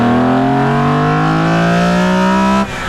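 A loud BMW M3 CSL engine roars through its intake as the car accelerates, its pitch climbing steadily for a few seconds before cutting off abruptly.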